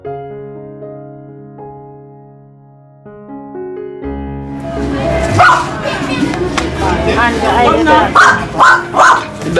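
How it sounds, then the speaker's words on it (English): A dog in a Trench Town yard in Kingston, Jamaica, barks and yips in short repeated bursts near the microphone, set against a busy background where people talk. "The dog now."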